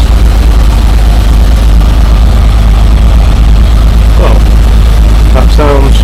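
A car engine running loud and close just after a cold start on choke, a steady low rumble filling the whole stretch, with a voice briefly audible over it.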